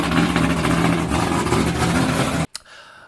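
A V8 car engine fitted with a TFS top end kit (twisted wedge heads, upper and lower intake manifold) and a stage 1 cam roars loudly and steadily up close, then cuts off abruptly into near silence with one brief pop.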